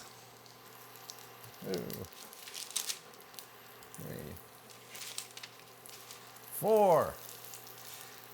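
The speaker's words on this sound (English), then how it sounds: "So my butter is melted, and now I'm going to add the patties." Black bean patties hit melted butter in a pan, setting off a steady soft sizzle and frying crackle under a few spoken words.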